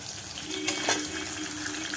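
Vegetables sautéing in a pan in a home kitchen give a steady soft hiss and crackle, with a couple of brief brighter spurts in the middle.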